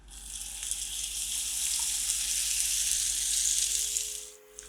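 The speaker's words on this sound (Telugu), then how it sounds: "పేస్ట్, కొత్తిమీర పచ్చిమిర్చి కలిసి పేస్ట్ చేసాం కదా, అది వేసేస్తున్నాం" A coriander and green chili paste hits hot oil in a pan for Kottimira Charu, giving a loud, steady broadband sizzle that holds for several seconds before cutting off abruptly near the end.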